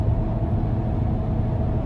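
A 2016 GMC Sierra 3500HD Denali dually with a Duramax diesel engine rumbles steadily from inside the cab while driving, a dense low drone with no talk.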